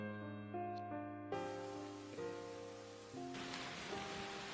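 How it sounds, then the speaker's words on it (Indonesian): Heavy rain in a film scene pours as a dense, steady wash of noise that grows louder and brighter toward the end, with sustained musical tones layered over it. "Di tengah derasnya hujan"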